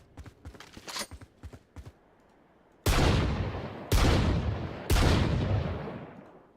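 Three loud, evenly spaced shots from the Outlaw sniper rifle in Valorant, each a sharp crack with a long decaying tail, preceded by quicker light tapping clicks.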